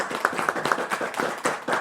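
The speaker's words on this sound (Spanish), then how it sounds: "Entonces vamos a darle un buen fuerte aplauso." Short burst of audience applause at a presentation on the synthesis and characterization of magnetic cobalt ferrite nanoparticles, with rhythmic, fairly close clapping that is moderately loud and continues without talk.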